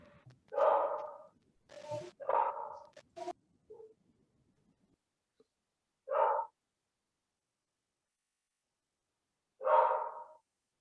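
A dog barks in short, clear bursts: three quick barks close together, then two more single barks separated by long silent gaps, moderately loud and heard alone.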